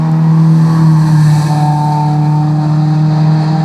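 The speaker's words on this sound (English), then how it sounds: "Loud ass fucking cars or whatever the fuck that was" Loud, continuous engine roar with a steady low hum, like cars driving by close and fast, with no voices.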